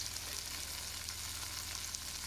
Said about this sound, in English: frying really nicely. Sounds just like a good burger should.